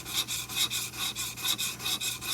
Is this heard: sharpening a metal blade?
yes